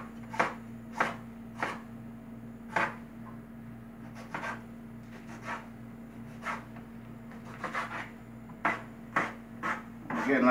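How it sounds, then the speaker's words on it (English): Knife chopping ingredients for homemade garlic bruschetta on a board, a run of sharp, fairly close chops in an irregular rhythm over a steady low hum, with the chops speeding into a busier burst at the end. "Cut up some more."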